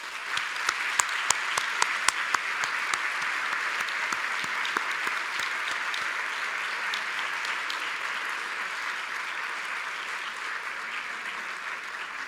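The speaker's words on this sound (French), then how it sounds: "j'aimerais qu'on les applaudisse" Sustained audience applause fills a graduation ceremony hall, steady dense clapping with a few sharp louder claps near the start, continuing evenly without speech.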